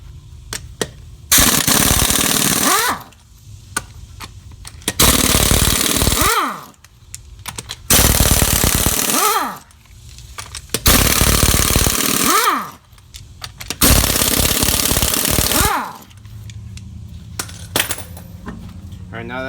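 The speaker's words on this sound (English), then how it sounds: "And we're going to remove the lug nuts." Car wheel lug nuts, size 19, being removed with an impact wrench: five loud, sustained rattling bursts of a few seconds each, separated by short pauses, close up.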